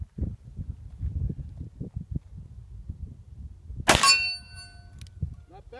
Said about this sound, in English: I'm gonna shoot the steel off the 30 yard exactly where that from right here